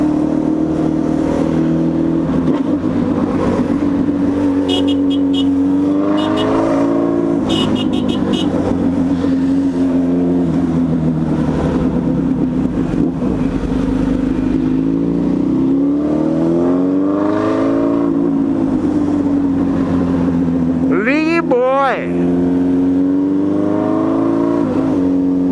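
A car drives through heavy traffic on São Paulo's Marginal highway, with a loud, continuous engine drone that rises and falls as it speeds up and slows. Surrounding traffic adds a brief whirring sweep near the end.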